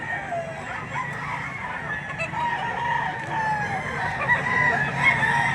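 Roosters crowing repeatedly at a crowded chicken market in Lipa City, Batangas, with overlapping calls and clucking over a dense, busy background.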